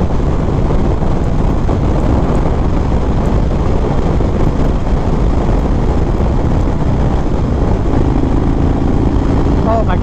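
A 2021 Indian Springfield Dark Horse motorcycle being ridden on the road, its steady engine drone blended with heavy wind rush at the microphone throughout, loud and continuous with no speech.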